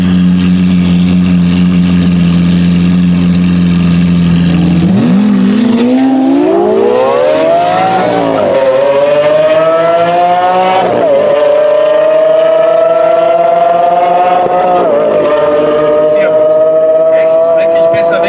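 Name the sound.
Lamborghini Aventador race car engines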